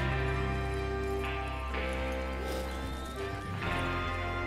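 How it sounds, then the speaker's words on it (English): Horses in the video game Red Dead Redemption 2 whinny and clop their hooves, set against a steady orchestral score that stays loud throughout. "Get your horses ready."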